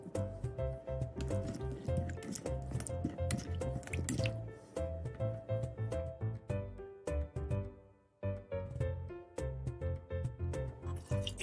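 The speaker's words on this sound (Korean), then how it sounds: "감자를 물에 2번 정도 씻어줍니다" Potatoes are rinsed in a bowl of water, giving a continuous run of splashing, dripping and squishy handling sounds close up, with a brief pause near the middle.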